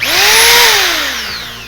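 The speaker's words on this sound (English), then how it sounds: "You get to use a power tool and drill a hole" A power drill whirs loudly, its motor pitch rising then slowly falling as it bores, close by with no talking.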